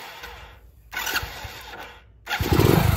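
A Hero Splendor motorcycle is started right after an air filter change, giving mechanical cranking clatter followed by the engine catching and settling into a loud, close, rough idle.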